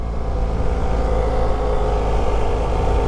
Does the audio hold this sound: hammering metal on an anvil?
no